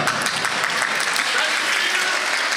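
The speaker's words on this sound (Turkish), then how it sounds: "Özellikle mutfakta çalışan kardeşlerimize bir alkış alırken" A theater audience applauds, giving a round of clapping for the kitchen staff at an event with guests; dense, steady, fairly loud clapping from many hands fills the whole stretch without a break.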